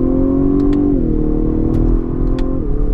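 A 2018 Lexus LS500 engine revs hard under heavy acceleration from the cabin, its loud rising drone dropping in pitch at two quick gear shifts before climbing again.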